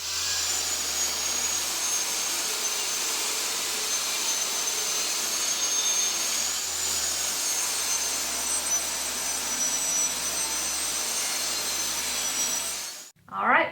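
A table saw runs steadily through a rip cut along a planed 3/4-inch wooden board, a loud continuous whine and roar that holds for about thirteen seconds and then cuts off abruptly, followed by a brief thump.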